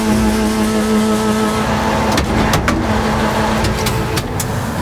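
A truck engine starts and drives off, a loud steady engine drone close by with sharp clicks and knocks partway through, heard without talk.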